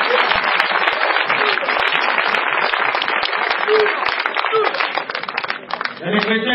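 A church congregation bursts into loud, sustained applause and cheering to acclaim the Lord Jesus Christ during a French-language service, the clapping dense and continuous with voices mixed in.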